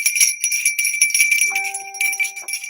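Bright, high-pitched ringing tones repeat rapidly, close and fairly loud, with a lower sustained chime entering midway as a bell is rung, no voices heard.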